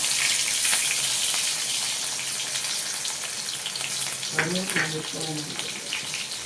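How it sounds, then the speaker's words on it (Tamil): Cumin, fennel seeds and shallots spluttering in hot oil for a rock fish curry: a continuous close sizzle and crackle, with a voice briefly speaking over it near the end. "1/4 ஸ்பூன் சீரகம், 1/4 ஸ்பூன் பெருஞ்சீரகம் போட்டு நல்லா பொரிஞ்சு வரணும்."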